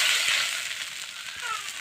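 Chopped onion goes into hot oil left from frying fish, a close, fairly loud hiss that eases slightly and then swells again, with no speech.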